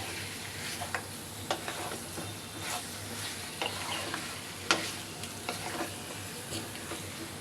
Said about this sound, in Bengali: মাংসটা ভালো করে নেড়ে চেড়ে 5 মিনিট কষিয়ে নেব